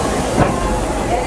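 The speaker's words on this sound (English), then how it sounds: "please wait until the train comes to a full stop" Disneyland Railroad train slowing to a stop, with a steady close rumble and hiss of rail noise throughout and a brief louder swell partway in.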